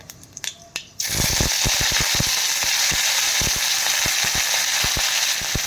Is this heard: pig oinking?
no